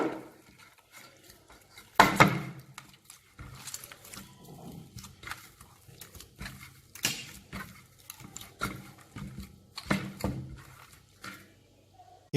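Hands kneading and massaging oiled dough for parappu boli, a Tamil lentil-stuffed flatbread, giving soft irregular squelching slaps and presses in close bursts with quiet gaps between.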